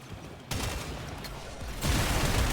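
Cedo Prime shotgun from a video game firing in a rapid automatic stream, dense loud blasts that start abruptly and grow heavier partway through, with no other sound.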